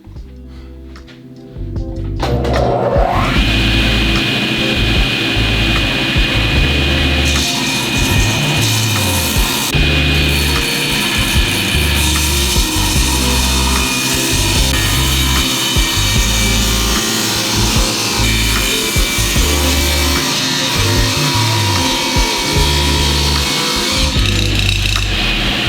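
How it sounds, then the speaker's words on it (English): A table saw squares up a wooden guitar-body blank and its top veneer for a pair of Telecaster-style guitars, running as a loud, steady whine with cutting noise after about two seconds of quiet. "I'm going to square this up a little bit with the table saw"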